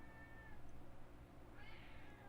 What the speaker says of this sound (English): my cat is complaining because I'm doing this and not playing with her